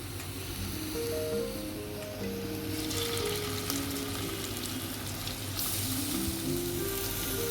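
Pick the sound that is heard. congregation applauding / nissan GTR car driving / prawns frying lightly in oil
prawns frying lightly in oil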